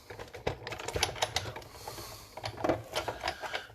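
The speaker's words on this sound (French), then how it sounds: "on va commencer notre découpe de nos rondins de bois avec notre classeur hybride" An old Big Shot die-cutting machine is cranked to cut wooden log shapes, giving a steady run of clicking, rattling mechanical knocks at moderate, close volume.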